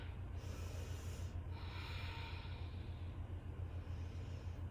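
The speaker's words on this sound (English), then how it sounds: "In and out through the nose." Slow breaths in and out through the nose during a yoga session. Two or three soft, airy inhales and exhales sit close to the microphone over a low background hum.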